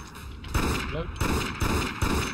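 Pistol shots in the video game Dead Effect come as several sharp, loud bangs in quick succession, each with a short decay, while game sounds play underneath.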